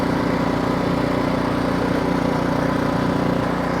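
Ariens Professional 32-inch snowblower engine running steadily in gear, a loud, close, continuous rumbling drone with an even pulsing beat and no pauses.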